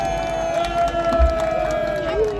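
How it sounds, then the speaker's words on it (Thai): Crowd cheering and applauding at a Muay Thai boxing event during a heritage festival in Ban Chiang, a steady loud roar of voices with sustained tonal sounds running through it. "ปรบมือดังๆให้กับพระนายกของพวกเราครับผม"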